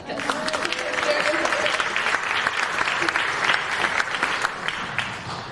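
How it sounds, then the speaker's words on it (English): Steady applause from an awards-celebration audience honoring civic idealists, dense clapping holding even and fairly loud throughout, with some voices and cheers mixed in. "So big round of applause for that."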